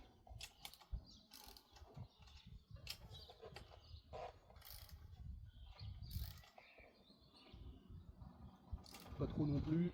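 Scattered light clicks and ticks of a hand ratchet tightening bolts on a Honda Monkey Z125, irregular and close but fairly faint, mixed with small metallic knocks and handling noise.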